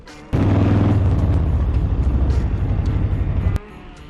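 Harley-Davidson motorcycle fitted with the biggest Harley kit (cams, cylinders, pistons, heads, fuel injectors, throttle body) and slip-on exhaust pipes, making about 125 horsepower: a loud, deep engine rumble for about three seconds that then cuts off abruptly.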